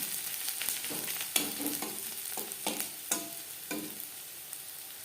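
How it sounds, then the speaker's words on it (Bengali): Onions frying in a pan until reddish brown for a shim (flat bean) curry, with a steady sizzle broken by repeated loud scraping stirs of a spoon, close by and with no talking. "পেঁয়াজ অবশ্যই লালচে করে ভেজে নিতে হবে"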